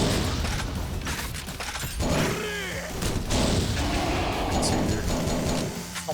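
Grenade launcher fire in the game Yakuza Dead Souls sounds as dense booming blasts and shattering crashes over constant game noise, with a person talking throughout.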